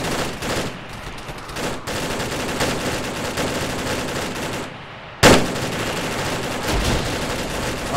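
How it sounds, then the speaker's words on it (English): Sustained automatic gunfire in the military shooter Arma 3, a dense, continuous rattle of suppressing fire with a brief lull before a sharp, loud burst resumes the barrage. "That's what you call fucking suppressing fire"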